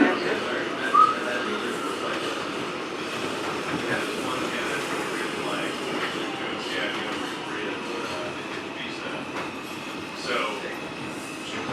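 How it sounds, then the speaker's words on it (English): Steady rolling rumble and hum inside an R142 subway car on the 2 line with the air conditioning off, heard continuously from onboard while a recorded voice makes a station announcement. "This is a Bronx-bound 2 local train."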